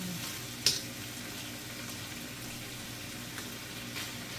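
BBQ chicken sizzles quietly in a frying pan with a steady low crackle, broken by one brief utensil clink near the start, and no one speaks.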